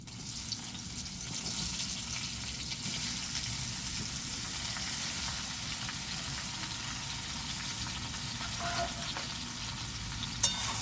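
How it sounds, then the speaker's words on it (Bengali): Mango pieces fry in hot mustard oil in a wok, a steady crackling sizzle with faint stirring beneath and one sharp knock near the end. "তেলটা গরম হয়ে গেছে, এখন আমি কড়ার মধ্যে দিয়ে দেবো আমগুলোকে।"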